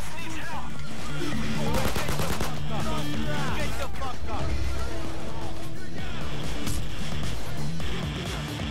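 Pistol fire in the video game Payday 2, rapid sharp shots in bursts across the clip amid dense game effects and music, loud and continuous with little pause.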